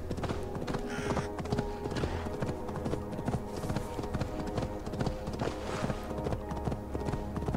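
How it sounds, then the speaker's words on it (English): Horse hooves clip-clop steadily on the ground in the video game Assassin's Creed Valhalla, a close, continuous rhythmic trotting with no talk over it. "it's a horse"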